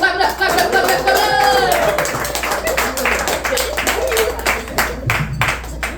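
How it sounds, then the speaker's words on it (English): An audience at a New York comedy show claps along, loud rhythmic hand claps building into applause, with cheering voices and someone speaking over the crowd. "Clap it up, clap it up, clap it up, clap"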